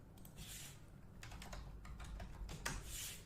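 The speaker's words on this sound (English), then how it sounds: "I'm going to type in landscape." Typing on a computer keyboard to enter a search query, with a brisk run of uneven key clicks and a few louder strokes near the end, close and clear with no voices.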